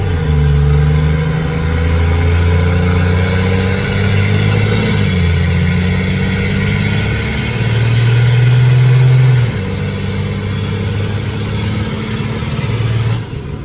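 A C30 truck with a swapped-in 12-valve Cummins diesel accelerates hard, a loud, close, steady engine drone that rises in pitch, dips briefly at a shift, then climbs again before easing off, with no talking.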